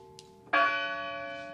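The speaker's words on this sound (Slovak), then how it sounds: "Tak to budeme zvoniť na svetu omšu." Church bells rung for holy mass, a single strong bell strike that blooms suddenly after a faint tap, its bright overtones ringing on and slowly decaying, heard close and alone.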